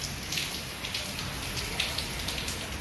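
Soft, continuous patter of rain falling steadily during a thunderstorm, a fine hiss with scattered drops, no voices.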